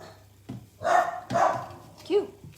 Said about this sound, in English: my little Shumini is barking at something